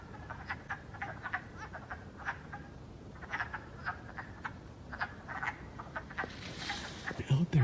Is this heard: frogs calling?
yes